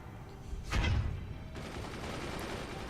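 Mortars fire in the video game Forts, one sharp, booming launch near the start that trails into a low, steady rumble, fairly faint overall.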